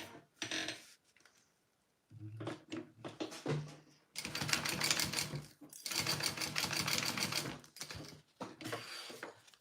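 A sewing machine bastes a D-ring onto fabric for a sling bag, running in several bursts of fast, steady stitching with short pauses between, close and clear.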